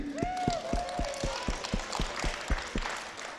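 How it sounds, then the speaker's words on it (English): Children's church service audience clapping in a steady, evenly spaced rhythm, about four claps per second, with a faint voice or tone over the first beats, moderately close. "Can you guys clap for Swifty?"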